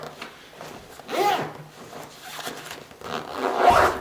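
The zipper on a large, pen-filled Kianshan pencil case rasps open in two close, loud pulls, with softer rustling of the case between them.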